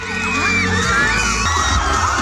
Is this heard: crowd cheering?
yes